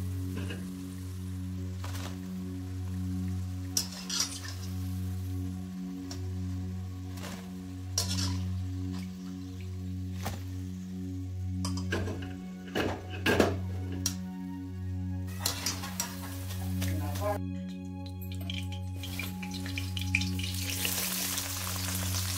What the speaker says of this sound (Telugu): ఇలా మంచిగా ఫ్రై చేసుకోండి.